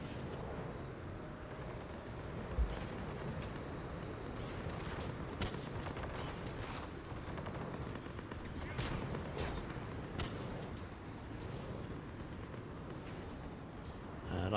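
Sniper rifle fire in the Mass Effect 3 multiplayer shooter, several sharp, spaced cracks punctuating a steady rumbling battle bed, with a player talking over the action.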